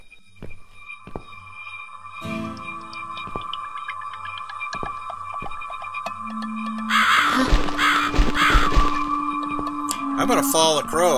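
Crow cawing inside The Cat Lady video game, in its woodland house chapter, a few harsh calls amid dark game ambience with a sustained tone and rising busy noise toward the end.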